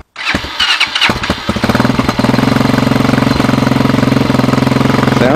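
A 2019 TaoTao TBR7 230cc dual-sport motorcycle engine cranks a few times with the choke on, catches and settles into a loud, rapid, chugging idle close by.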